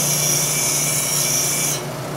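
Tool steel is held against a CBN grinding wheel, producing a steady close abrasive rasp with a high whine that drops away near the end.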